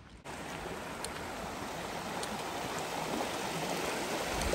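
A river rushes steadily past the beach at Mills Creek near Moab, a constant broad hiss of flowing water, close and even, with no voices.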